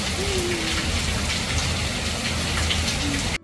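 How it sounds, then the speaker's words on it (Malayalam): Heavy rain driven by wind pours down in a loud, dense, continuous roar of drops hitting surfaces close by, cutting off abruptly at the end. "ആ മഴയുടെ ശബ്ദം നിങ്ങൾക്ക് കേൾക്കുന്നുണ്ടല്ലോ അല്ലേ അത്രയും നല്ല ശക്തി ശക്തമായിട്ടുള്ള മഴയായിരുന്നു"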